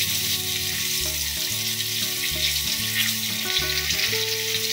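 Potatoes sizzle steadily in hot oil in a pan, a dense continuous frying hiss with a low background hum and no voices.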